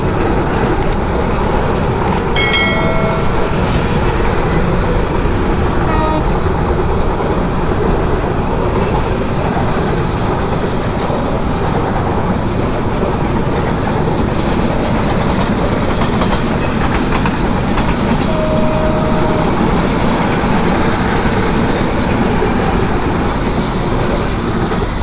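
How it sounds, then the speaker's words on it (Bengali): A train passes near Chalan Beel in Bangladesh with a loud, continuous rumbling roar and rhythmic clatter of wheels on rails, close by and steady for the whole stretch, with no talk. "এই দিক দিয়ে ট্রেন যাচ্ছে।"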